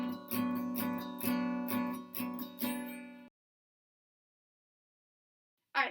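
An acoustic guitar strums a chord from the fifth string down, several even downstrokes ringing close and clear for about three seconds. Silence follows, then a brief burst at the end.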